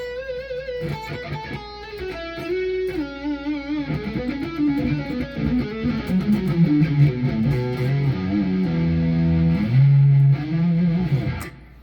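A distorted electric guitar on its neck pickup, a headless Leo Jaymz guitar, plays a warm, thick melodic line with bends and sustained notes, then heavier chords, loud and close with no voices.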